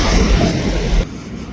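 A train passes a railway crossing in Germany during the snowstorm Elli. Its rumble is loud and near, then cuts off abruptly after about a second, leaving a quieter background.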